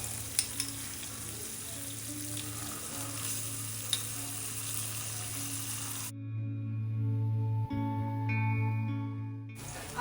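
Ginger paste sautéing with capsicum in a pan, a steady close sizzle with occasional stirring clinks, growing louder and denser toward the end.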